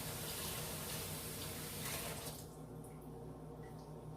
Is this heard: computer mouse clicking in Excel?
no